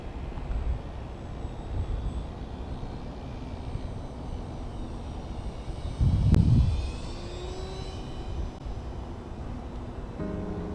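A FliteTest Tiny Tutor RC airplane flies and rolls overhead, its small electric motor a steady thin drone, with a louder swell near the middle as it passes close by, then fading back.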